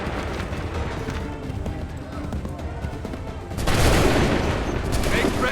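Musket volley fired on command by soldiers in Assassin's Creed 3, a sudden loud crackling fusillade breaking in after shouted orders, then sustained gunfire and battlefield noise.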